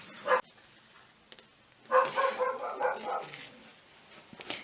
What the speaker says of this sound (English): where would we be if we hadn't got Nelson woofing